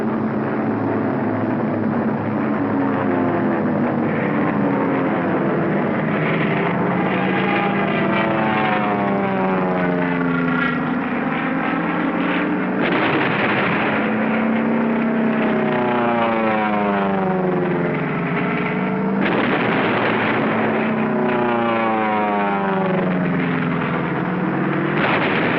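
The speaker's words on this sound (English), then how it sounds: "The support air director contacts carrier planes circling the target." Carrier-based planes from the 1945 Iwo Jima operation circle over the target, giving a loud, continuous propeller-engine drone that holds steady throughout with no talking.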